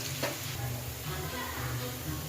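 Peanuts sizzle and fry in hot oil in a kadhai with onion, green chilli and curry leaves for poha, a steady close crackling hiss with a faint low hum beneath.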